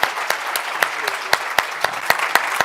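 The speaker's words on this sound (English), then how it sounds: "And let's give Johnny a huge round of applause." Enthusiastic applause from a crowd, steady clapping with sharp individual claps standing out, brief and lively.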